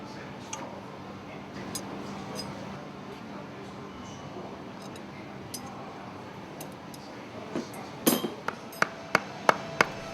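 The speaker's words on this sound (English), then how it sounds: "Use a hammer and a piece of wood to hammer the piston into place in the air cylinder." A series of sharp, quick hammer taps through a piece of wood, driving a piston into the air cylinder of a marine diesel engine, near the end, growing louder and closer together, after a stretch of quiet background noise.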